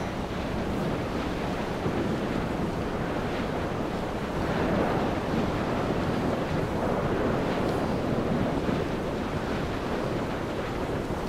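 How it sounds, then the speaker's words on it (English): Wind blows across a high, exposed island headland near a beacon in the game Dear Esther, a constant broad roar with a surf-like wash swelling and easing over about eleven seconds, with no speech. "Man, it's windy up here."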